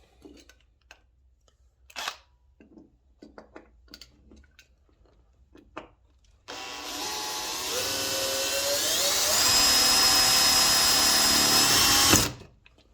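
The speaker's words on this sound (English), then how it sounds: "you want to make sure that you're drilling exactly straight down, not at an angle" A power drill bores into a small Gaslands toy model car, a steady close whine starting abruptly after a few soft handling knocks and rising slightly in pitch before cutting off.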